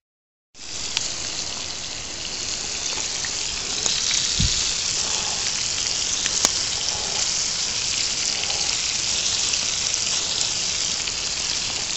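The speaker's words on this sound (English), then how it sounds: "Food's cooking up there good, man." Trout, potatoes and onions frying in a pan over an open campfire outdoors, giving a steady, close crackling sizzle that holds evenly throughout with a few faint pops and knocks.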